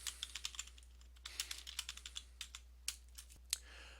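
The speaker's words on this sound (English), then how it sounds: "We'll type in the description of this ingredient." Keys clatter on a computer keyboard while an ingredient description is entered, a run of crisp, evenly spaced clicks with short pauses, close and fairly quiet, with no voices.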